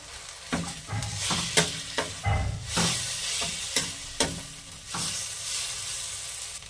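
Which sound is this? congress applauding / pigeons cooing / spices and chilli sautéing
spices and chilli sautéing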